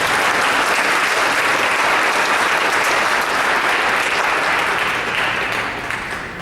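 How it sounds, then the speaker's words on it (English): A school board meeting audience gives a loud, dense round of applause, many hands clapping together in a steady roar that tapers slightly toward the end. "One more round of applause."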